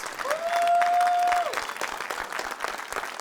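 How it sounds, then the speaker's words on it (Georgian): Studio audience applauding at the close of a TV talk show segment, steady dense clapping throughout, with a brief sustained whistle-like tone near the start. "აპლოდისმენტები."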